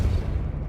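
A Repulso spell blast goes off in Hogwarts Legacy as a short, loud, low rumbling boom that holds steady and then cuts off.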